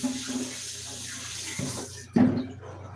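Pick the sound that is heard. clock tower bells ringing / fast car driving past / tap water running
tap water running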